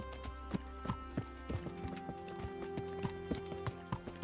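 Horse hooves clip-clop steadily in the medieval game Kingdom Come: Deliverance, a rhythmic sequence of sharp hoofbeats over sustained droning background tones, moderately close and alone without talk.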